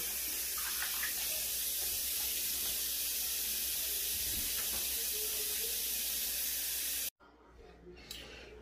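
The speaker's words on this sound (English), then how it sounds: "I'm going to fill the sink up with warm water" Warm water runs steadily from a faucet into a sink, filling it with a loud, continuous broadband rush and hiss, cutting off abruptly near the end and followed by faint splashing.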